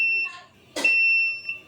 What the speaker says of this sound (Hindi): ये देखिए टाइमर को जो है कमांड नहीं मिली है फीडबैक की, तो उस कंडीशन में ये बज़र अपना काम करना शुरू कर दिया है।